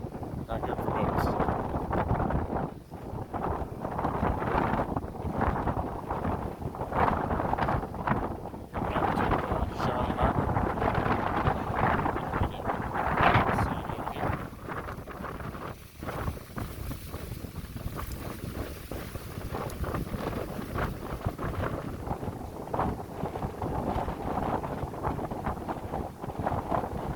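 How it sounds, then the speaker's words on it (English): Strong, gusty wind roars across the microphone at Charlotte Harbor on a day of 50-mile-an-hour gusts, a steady, loud rumble of buffeting that surges and dips for the whole stretch, with a voice talking beneath it. "50-mile-an-hour wind gusts happening today."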